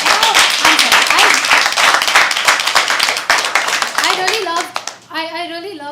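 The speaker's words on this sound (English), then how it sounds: "I think that it deserves an applause" Dense audience applause at a live poetry open mic rattles on for a few seconds before fading, with voices speaking over the tail end.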